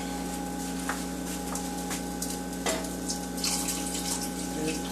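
Water runs steadily from a tap into a pot, a continuous splashing rush close by with faint clinks and knocks, no talking.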